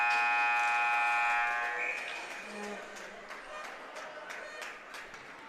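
A loud, sustained electronic ice hockey arena buzzer blares for nearly two seconds at an Atom B final, then fades into crowd noise and scattered clatter of a busy arena.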